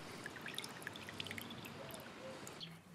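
Coolant drained from a BMW R1200GS motorcycle is poured into a measuring container, giving a steady trickling, splashing stream that runs close and fairly quiet throughout without speech.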